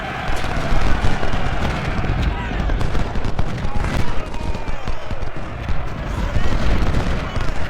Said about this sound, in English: our reinforcements have just entered the fray and started shooting